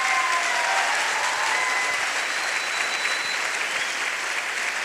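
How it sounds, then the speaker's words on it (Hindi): Seminar audience clapping in a hall, dense sustained applause from a large crowd that holds steady throughout. "अपने लिए ताली बजानी है"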